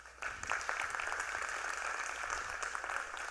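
A youth town hall crowd claps for a young person, a soft, steady round of many hands heard at a distance with no talking.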